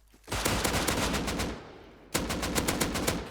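Rapid automatic gunfire from a shooter video game, two long loud bursts of rattling shots separated by a brief lull, with no talking.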